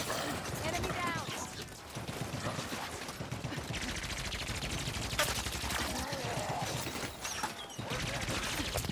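Dense gunfire from Elite alien weapons in the Halo 5 shooter game, a steady barrage of rapid shots and impacts filling the scene with battle noise throughout, with voices speaking over the fighting.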